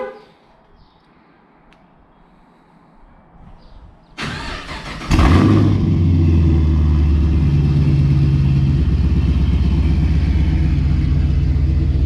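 Quiet background, then a Pontiac G8 GT engine cranks and catches loudly, settling into a strong, steady revving idle close by.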